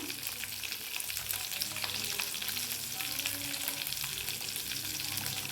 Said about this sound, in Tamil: சும்மா ஒரு ரெண்டு வதக்கல் வதக்கினா போதும் ப்ளஸ் இந்த ஏலக்காய் கிராம்பு அது போட்டுடுறேன்